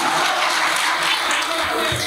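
Audience applause at a mushaira, a broad, steady wash of many hands clapping throughout, dense and fairly loud with no clear gaps.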